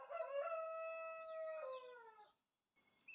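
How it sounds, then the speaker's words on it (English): A cockerel on a rural property lets out one long, loud cock-a-doodle-doo close by, holding its drawn-out final note for about two seconds before a brief silence and a faint start of another call. "the cockerel feels left out and just has to announce he's around too"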